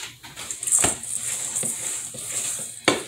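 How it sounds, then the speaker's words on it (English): Cookie dough being stirred with an IKEA spoon, a few soft scraping knocks and thuds against the bowl, close by, with a brief sharper clack near the end. "let me grab something to stir this up with"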